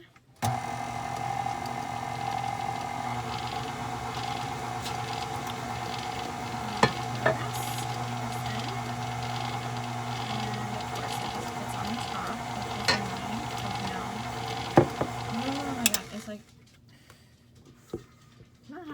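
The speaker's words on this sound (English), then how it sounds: "So I'm going to mix it a little more." Rosemary focaccia dough is worked in a bowl with a steady whirring, scraping churn that runs evenly for about sixteen seconds, with a few sharper knocks, then stops and leaves near silence.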